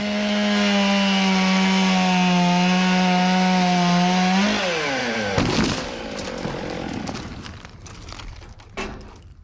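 A chainsaw trims a walnut tree, first holding a loud, steady high-revving whine, then dropping in pitch as it bites into the wood, followed by crackling and rustling of cut branches.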